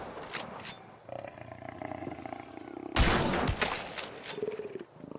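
In a video game, a sharp, loud long-range sniper shot cracks out mid-clip with a rumbling echo, set among fainter in-game sounds and scattered noises before and after.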